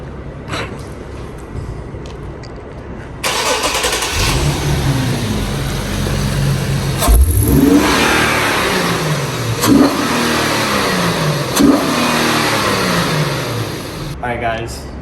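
An Infiniti G37 fitted with new intakes starts up and revs, its engine note rising and falling through several loud, close revs over a steady idle, with a voice speaking briefly.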